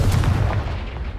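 A Confringo fire spell in the Hogwarts Legacy video game goes off as a loud, deep blast that booms and then rumbles away into a fading tail over about a second.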